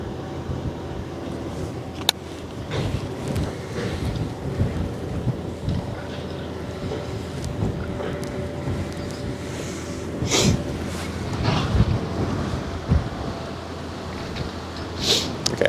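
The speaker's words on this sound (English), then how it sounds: "Oh, so much wind." Strong wind blows by the Westerschelde estuary, a steady broadband roar buffeting close to the microphone with heavier gusts swelling now and then; no voices.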